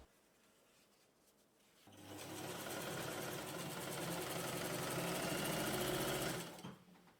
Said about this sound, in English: I'll be using this vintage Japanese sewing machine for this project.